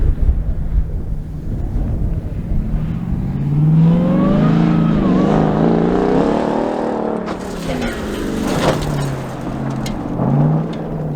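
A Ram TRX pickup truck accelerates hard at speed toward a jump, its engine roaring and rising in pitch up close, with heavy wind buffeting over the mic and a brief drop before revving again.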